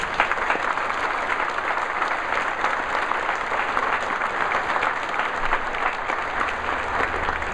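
Sustained applause from a large audience at a Hall of Fame induction ceremony, a dense, steady wash of clapping that stays loud throughout with no break.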